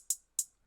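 Closed and open hi-hats programmed in FL Studio for a trapsoul beat give three bright, crisp ticks spaced evenly about a third of a second apart, each decaying quickly, with nothing else heard.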